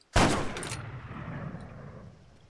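A single loud gunshot fired at a vehicle's engine block in the ArmA 3 video game, a sharp close crack followed by a long rolling echo that fades over two seconds.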